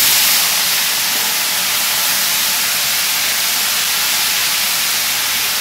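Potatoes seasoned with salt and turmeric hit hot oil in a pan, giving a loud, steady, hissing sizzle that runs without a break throughout, with no talking over it.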